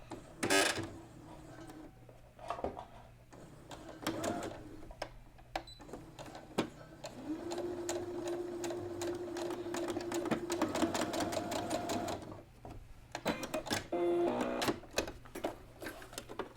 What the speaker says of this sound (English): backstitch all the way to the end, and then back again to the end.